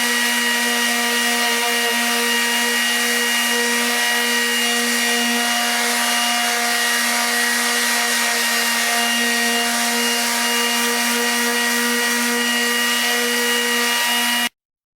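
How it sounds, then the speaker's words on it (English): A power sander runs steadily on a mango wood plate, a loud constant high-pitched whine with a strong even hum, unbroken for the whole stretch before cutting off abruptly at the end. "I just finished sanding around the outside and sanding on the inside."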